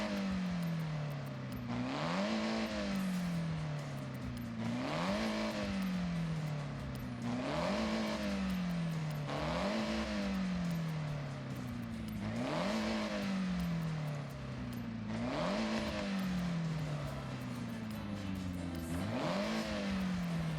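Racing video game car engine revving in repeated cycles, each rising in pitch then dropping back, about every two and a half seconds, loud and steady with no talk.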